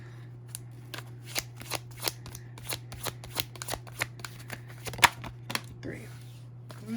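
Tarot cards shuffled by hand in a quick series of crisp riffling slaps and flicks, close and fairly quiet, over a steady low hum, with a brief bit of voice near the end.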